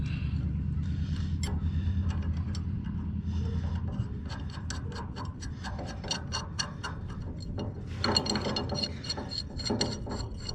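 Ratchet tightening a nut onto a U-bolt on a Carson utility trailer. Steady rasping clicks repeat close by, speeding up in places, with a sharper burst of clicking toward the end and no talking.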